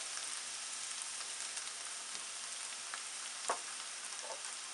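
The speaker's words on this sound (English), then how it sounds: "we'll just let that continue to cook until the onions get translucent" Onions sizzle and fry steadily in a pan while cooking toward translucent for a chicken curry, with a continuous soft hiss and an occasional faint pop, no talking.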